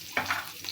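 Oil sizzling and food being stirred in a pan while cooking red amaranth leaves in a village kitchen, with a few short scraping bursts over a steady, soft fry.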